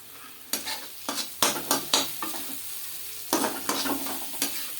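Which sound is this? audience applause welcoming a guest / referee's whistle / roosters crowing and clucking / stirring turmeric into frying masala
stirring turmeric into frying masala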